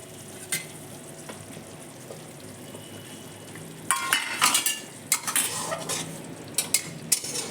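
Two green chillies drop into a pan of doi katla, a Bengali fish curry in yogurt gravy. Steady close sizzling runs under clinks and scraping stirs, with a louder burst of crackle partway through.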